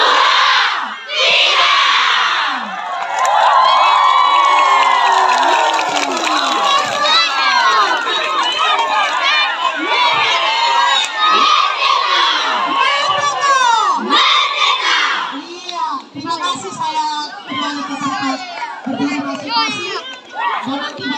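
A crowd of schoolchildren and teachers at an Indonesian school Independence Day celebration cheers and shouts loudly, a sustained mass of excited, overlapping voices that thins into scattered calls toward the end.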